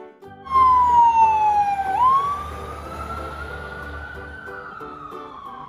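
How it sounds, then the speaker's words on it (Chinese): A fire truck siren wails nearby, a loud descending tone that snaps back upward and then sustains a rising, fading wail over a low engine rumble. "消防车 Fire truck."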